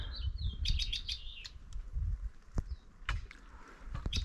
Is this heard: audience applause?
no